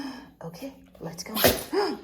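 A single quick sneeze bursts out near the middle, close and fairly loud, with people talking around it indoors in a hotel suite.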